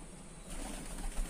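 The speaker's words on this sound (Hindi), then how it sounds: "देखिए दोस्तों कितना बढ़िया कबूतर है" A pigeon coos softly nearby, with a low murmuring call rising slightly toward the end over a quiet background.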